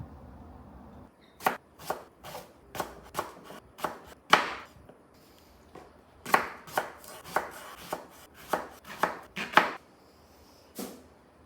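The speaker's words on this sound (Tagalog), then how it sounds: "Sure naman ako hinihiwa yung talong." A knife chops through eggplant onto a board in sharp, irregular strokes, some in quick pairs, close and clear after a second of quiet.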